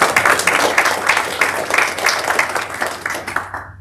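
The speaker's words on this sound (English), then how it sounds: "give yourselves a round of applause for that" A sellout crowd at a sustainable infrastructure breakfast gives a round of applause, a thick, even wash of clapping that holds steady and then cuts off abruptly.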